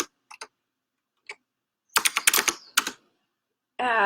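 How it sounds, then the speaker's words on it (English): Computer keyboard keys tapped in a few sparse clicks, then a short, dense flurry of louder keystrokes close by, followed by a brief burst of another sound at the end. "I'll type that in here."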